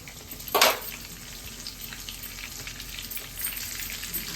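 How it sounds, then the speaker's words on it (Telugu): Green chillies and curry leaves fry in hot oil for a prawn pakoda recipe, giving a steady close sizzle with a brief louder burst of crackling near the start. "కరివేపాకు చిట్పట్లాడినంత వరకు ఇలా వేయించుకొని"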